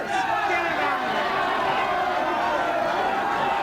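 A live audience at a comedy show reacting with mixed noise, a dense wash of voices, murmuring and calls blended together, steady and fairly loud.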